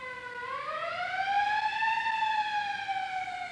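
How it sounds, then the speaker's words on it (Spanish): An ambulance siren wails close by, a loud two-stage rising then steady tone that swells and holds, passing through a quiet setting with no talk over it. "Tiene que pasar la ambulancia."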